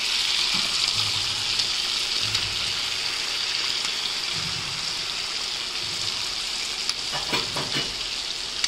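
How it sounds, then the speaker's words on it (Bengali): Shrimp frying in a pan with onion, green chili, salt and turmeric, a steady loud sizzle throughout with a few stirring clatters near the end. "চিংড়ি মাছও দিয়ে দেই। তারপরে এখানে পেঁয়াজ, কাঁচামরিচ, লবণ, হলুদ।"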